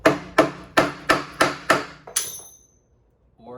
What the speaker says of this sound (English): you need to either hammer the pedal on